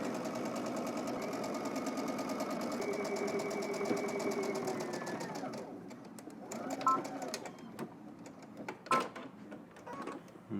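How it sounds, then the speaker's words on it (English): Sewing machine stitching close to a pocket seam on a garment front piece, a rapid steady mechanical whir for about six seconds, then stopping, followed by scattered clicks and handling noises. "we're just going to stitch close to that seam, but on the pocket side"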